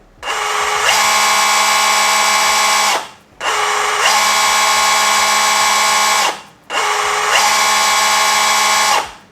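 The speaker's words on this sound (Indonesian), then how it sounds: "Ternyata untuk rotary hammer ini ada fitur slow start." A Bosch GBH187Li cordless brushless rotary hammer runs three times in a row, each run ramping up gently from a slow start to a loud, steady whine before cutting off, heard close and alone.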